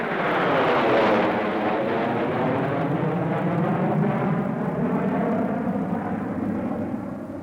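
A U-2 reconnaissance spy plane passes as a steady, loud jet-engine roar with a slowly sweeping, phasing hum that eases off slightly toward the end, with no voices.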